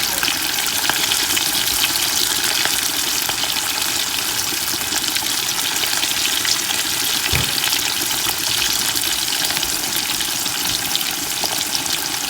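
Fish dusted with a little flour frying in hot oil for an African dish, a steady loud sizzle and crackle running continuously without a break, with no talking.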